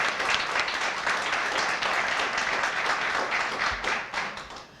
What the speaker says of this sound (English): Please give them a round of applause for supporting me.